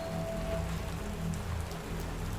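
Steady rain falls on a surface as a dense, even patter that holds at the same level throughout, with no voices and no thunder.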